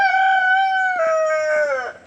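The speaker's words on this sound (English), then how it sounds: "How many chickens we got here?" A single rooster crows nearby, one clear drawn-out call falling in pitch at the end, with faint clucking underneath.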